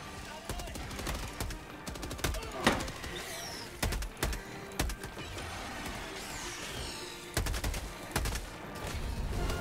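Rapid video-game gunfire crackles in repeated bursts of sharp shots among mechanical clatter, moderately loud, with players talking over it.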